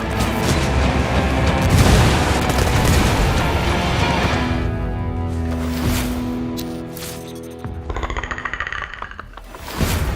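Gunfire and heavy booms in a Ghost Recon video game set in a jungle, loud blasts and impacts at first, fading into quieter rumbling, then a few sharp shots near the end.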